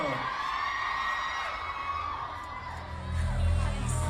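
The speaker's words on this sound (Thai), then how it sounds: "ขอบคุณค่ะขอเสียงให้ดีเนยหน่อยเร็ว" A large crowd cheers and shouts continuously, with children's voices and whoops rising into a louder swell near the end.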